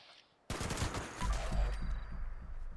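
Gunfire in the video game Fallout 76, aimed at feral ghouls, bursts in suddenly after a quiet start as a rapid, loud volley of shots with booming low thuds that carry on for about two seconds.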